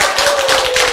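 An audience in a lecture hall claps in a loud, rhythmic patter of close hand strikes, with a steady sustained tone running underneath.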